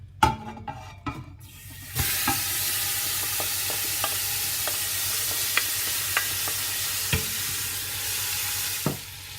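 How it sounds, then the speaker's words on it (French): Pieces of veal drop into a hot cooking pot. A few clattering knocks come first, then a loud steady sizzle starts. Regular light taps and scrapes of stirring sound over it, close by and without speech. "je dépose les morceaux de viande de veau dans la marmite"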